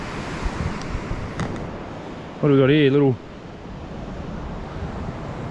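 Larger ocean waves break on a shoreline in north-east Tasmania, a steady roar of surf and wind noise with someone briefly speaking partway through.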